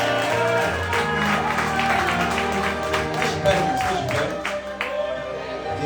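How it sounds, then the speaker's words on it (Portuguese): A congregation applauding for Jesus during an evening sermon; a continuous layer of clapping and crowd noise under music or voices, fairly loud and steady, thinning out toward the end. "Uma salva de palmas para o Senhor Jesus."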